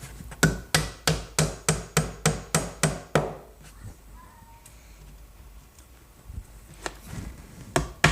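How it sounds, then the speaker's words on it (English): A cabinet back being nailed in place, heard as a quick run of about ten sharp, evenly spaced hammer blows, close and loud, then a quieter stretch of faint workshop noise and a few scattered knocks. "The back is glued and nailed in place."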